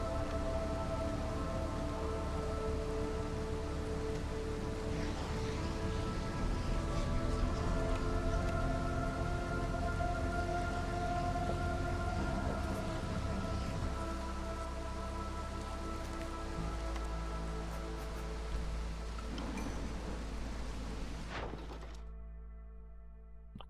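Steady rainstorm ambience from the video game Against the Storm, a continuous wash of rain with low rumbling and a few soft knocks. It holds at an even level throughout, with no one talking.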